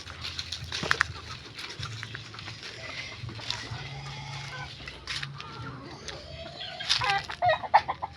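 Backyard chickens waiting to be fed at a small house near a banana harvest, clucking and calling in scattered bursts, busiest toward the end, over a low steady background hum.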